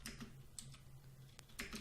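Faint clicks of keys being typed on a computer keyboard, a short quick burst of a handful of taps close by in a quiet room.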